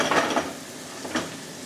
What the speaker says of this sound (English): if you look at the sizzle there, and you focus in on the sizzle there